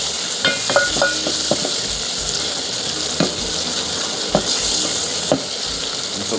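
Spicy matoke frying in a pot with Royco cubes gives a steady loud sizzle, while a utensil stirs and scrapes the pot in a few sharp knocks, with no voices.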